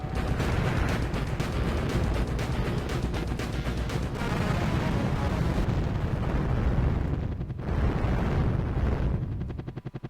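Continuous roaring blasts and rumbling explosions from the helicopter combat game Soviet Strike on Sega Saturn, loud and dense throughout with crackling bursts, easing briefly near the end.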